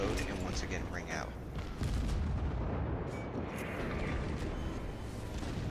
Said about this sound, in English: the guns reload and once again ring out